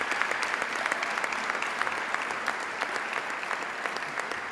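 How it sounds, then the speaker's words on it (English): An audience at the Ruane Friar Development Center announcement in Friartown gives itself a steady round of applause, a dense, even wash of clapping that holds for several seconds with no talk over it. "So please give yourself a nice round of applause."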